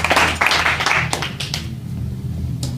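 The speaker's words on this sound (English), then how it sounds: "Please give a warm round of applause for our next comic, Socrates, Inglessis." An audience in a comedy club claps for a comedian, a burst of dense applause that quickly thins to scattered claps and fades, with no talking over it.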